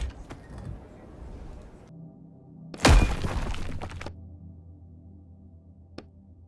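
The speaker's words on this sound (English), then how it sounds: "The blow smashes through the wall, widening the gap enough for you to squeeze through." A sledgehammer smashes through a wall in a video game: one loud crashing impact with a burst of breaking debris that rattles on for about a second, then a quiet room tone and a single faint click.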